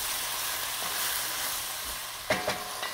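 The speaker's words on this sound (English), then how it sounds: "because you added ingredients, the frying has slowed down a little bit" Beef stew ingredients sautéing in a pot, a steady broad sizzle of frying with a few louder stirring clatters near the end, close and continuous with no talking.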